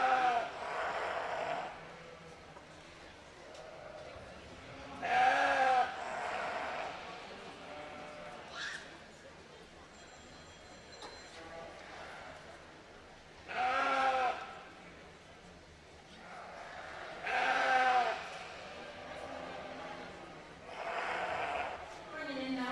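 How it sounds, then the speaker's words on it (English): Breeding goats bleat in loud, separate bursts at a state fair livestock show, several calls spaced across the clip with quieter arena ambience between them. "Bringing in now our Berlin breeding goats"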